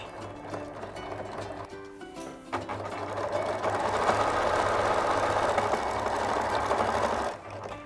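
A sewing machine sews a seam in a felted woollen jumper, running steadily and close with a whirring motor hum that speeds up and holds for several seconds before stopping abruptly.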